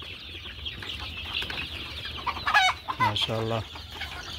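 Desi hens cluck on a poultry farm, soft chatter building into a few louder, drawn-out calls near the end, with a brief spoken word over them.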